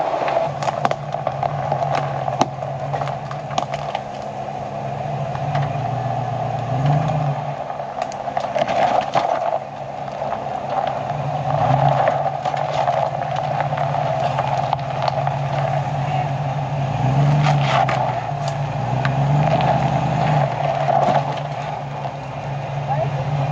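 A Jeep's engine drones steadily as it crawls over a fallen log on a rough mountain pass near Silverton, Colorado, with low rumbling swells as it climbs the bump and voices faintly underneath.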